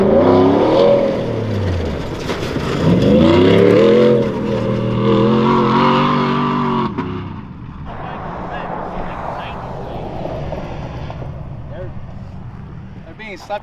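Cars revving and pulling away across the Arizona desert during a video shoot, engine roar rising and shifting for several seconds, then a quieter idling stretch, with people talking throughout.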